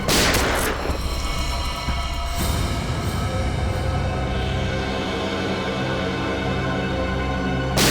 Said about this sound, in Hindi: सर चलाओ गोली